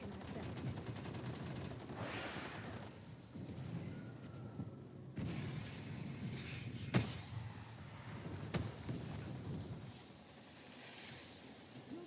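Gunfire in Call of Duty Cold War Zombies, Outbreak mode: a steady mid-level wash of shooting and game noise with a couple of sharper shots near the middle, no speech.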